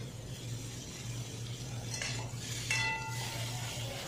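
Cauliflower and potatoes are being stirred and fried in a pan, with a steady sizzle underneath and scraping utensil clinks against the pan around the middle and toward the end, close and fairly quiet.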